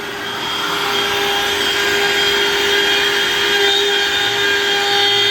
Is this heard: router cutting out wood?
yes